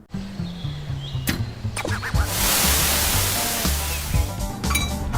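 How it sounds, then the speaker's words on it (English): Small hard wood pellets pour and rattle into a metal pellet grill hopper with a rushing, hissing cascade, over a low mechanical hum. "What you're hearing is pellets falling into a clean"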